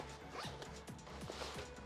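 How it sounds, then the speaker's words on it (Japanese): A zipper is pulled open at the foot end of a Grüezi bag Biopod Wolle Kids World Traveller children's sleeping bag, opening the panel that lets it extend. It makes a close, continuous ratcheting rasp in several quick pulls. "このジッパーを開けていただくと"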